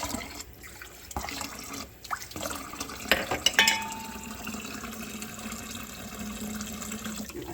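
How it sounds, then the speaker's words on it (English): Water pours from a tap into a glass of iced tea with maple syrup and lemonade, a steady, close trickle with a few clinks and splashes, no talking. "And definitely gonna put more water in here."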